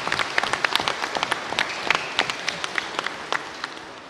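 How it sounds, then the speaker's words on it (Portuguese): Applause at a public gathering for a prosecutor at a quilombo land event, with sharp individual claps standing out over a softer crowd patter, close and fairly loud, tapering slightly toward the end. "eu peço mais uma vez uma salva de palmas para o nosso procurador Afonso Henriques"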